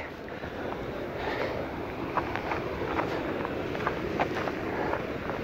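Steady wind roaring across an open kite-flying spot while a freestyle sport kite is flown, a continuous broadband rush with light gusty swells and faint flutters, no talking.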